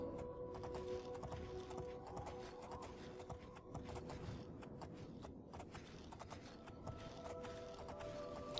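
Steady clip-clop of horse hooves trotting along in The Elder Scrolls IV: Oblivion, with faint creaks and mechanical rattles over a constant low background; no talking.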